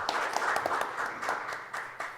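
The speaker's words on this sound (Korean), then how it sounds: "여러분 큰 박수 보내주십시오." Audience at a robotics future strategy conference gives a round of applause, a fairly faint, steady patter of many hands with a few sharper claps, heard from a distance.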